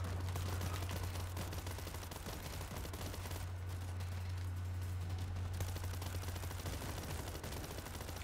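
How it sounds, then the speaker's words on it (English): Automatic shotgun in World War Z fired with the trigger held down, giving a dense, continuous stream of loud blasts over a steady low hum, with gunfire noise filling the whole stretch. "I'm just holding down the trigger with this automatic shotgun right now."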